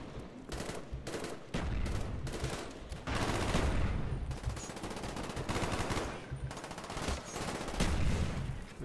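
Gunfire in Call of Duty: Black Ops, with rapid automatic bursts and single shots cracking repeatedly in loud, irregular clusters throughout.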